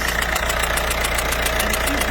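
A PSA 1.6 HDI DV6 diesel in a Citroën Berlingo idles with leaking injector seals: a steady, close engine drone overlaid with a fast, regular ticking clatter, and no voices.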